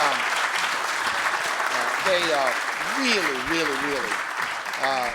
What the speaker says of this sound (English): So give the two of them a round of applause.